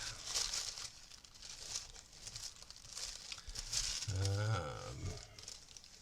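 Blue tissue paper crumpled and crinkled by hand during a craft session, a soft continuous papery rustle up close, with a brief low hum near the end.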